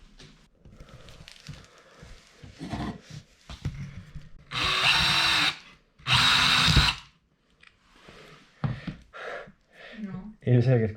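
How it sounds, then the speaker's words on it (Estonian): A power drill bores a hole during skate ramp construction, two loud, sustained bursts of whirring drilling separated by a brief pause, with someone talking before and after them. "seega ma pigem puurin augu ette."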